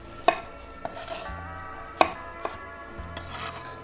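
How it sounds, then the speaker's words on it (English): A knife chops artichokes into quarters on a cutting board, giving a few sharp, close knocks spaced irregularly with quieter scrapes between, in a home kitchen with no talking. "I'm just gonna cut them in quarters"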